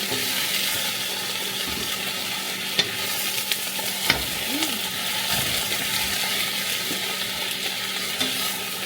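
Kangkong (water spinach) sizzles and fries steadily in a pan, with a continuous close hiss and occasional stirring clinks and scrapes, no talking.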